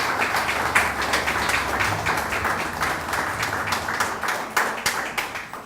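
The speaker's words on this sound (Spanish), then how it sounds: "Un aplauso más." An audience at a communication, human rights and culture award ceremony applauding, a dense, steady round of clapping from a crowd, close and loud, lasting throughout with no talking.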